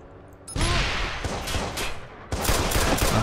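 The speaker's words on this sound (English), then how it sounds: "Who the fuck's shooting now?" Bursts of gunfire from the video game Watch Dogs on PS4: a short shot, then a loud sustained volley, a brief lull and another heavy round of rapid shooting, close and dense with no talking.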